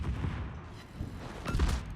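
Secondary guns on a German heavy cruiser in a naval battle game fire on their own, a quiet, distant patter of several muffled reports in uneven bursts over a low rumbling background.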